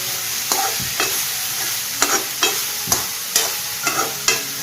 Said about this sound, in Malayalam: ഇടയ്ക്കൊന്ന് തുറന്ന് നോക്കി ഇതൊന്ന്